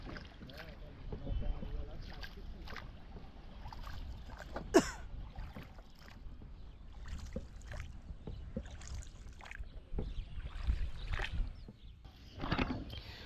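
A rowboat glides across Beri Gopalpur baor, a lake in North 24 Parganas, with soft, faint splashes and creaks at close range under a low ambient hush, with a few brief voices in between.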